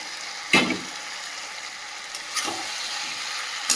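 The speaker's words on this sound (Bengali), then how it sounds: "দিয়ে ভালোভাবে কষিয়ে নেবো মাংসের সঙ্গে" Mutton and fried potatoes being sautéed together in a pan, with a soft steady sizzle broken by a few sharp stirring scrapes and clinks.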